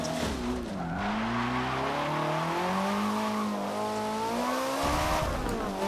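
A video game Ferrari 458's 4.5 liter V8 engine revs hard and holds a loud, rising and falling V8 growl through gear changes, with a brief squeal of tires underneath.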